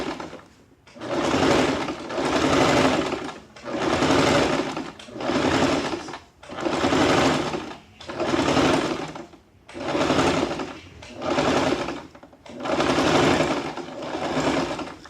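Sewing machine stitching a sleeve onto a draped jacket, running in about nine regular bursts of fast stitching separated by short pauses, close and clear with no voices.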